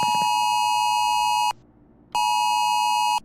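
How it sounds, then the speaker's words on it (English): A phone alarm in a horror mod of a video game blares as a steady, piercing electronic siren tone, sounding loud and alone for about a second and a half, going silent briefly, then starting again. "I jolt awake by the sound of a siren going off on my phone."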